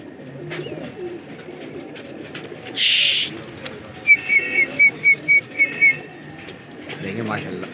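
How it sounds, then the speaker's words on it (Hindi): Pigeons released from a rooftop loft, with a rapid run of about eight short, sharp whistles in the middle over low cooing and background murmur, and a person speaking at times. "ये कबूतर खुल गए हैं ज़ुबैर भाई के।"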